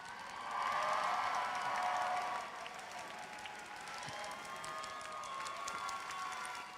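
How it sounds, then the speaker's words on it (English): A commencement crowd applauds the graduating class of 2026 with dense, sustained clapping. It swells loudest early on, eases slightly, then carries on steadily as a broad wash of many hands, with scattered cheers inside it. "let's give the class of 2026 another round of applause"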